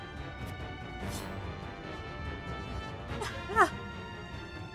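Dogs in the video game Triangle Strategy let out a single sharp bark near the end, standing out briefly over a steady bed of game music and background noise.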